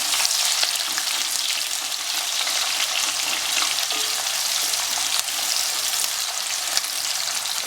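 Onions frying in a pan with spices for chicken biryani, a dense, steady crackling sizzle that stays close and fairly loud throughout, with no talking.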